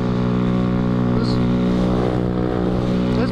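Small motorcycle, a grom-type bike, ridden on Atlantic City streets, with a steady loud engine drone and harmonic whine throughout, slight revving near the end.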